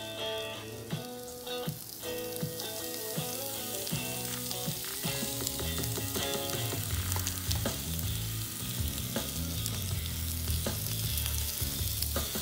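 Continuous crackling sizzle of ono fish searing in a frying pan on an outdoor grill, close and steady, with background music playing and no talk.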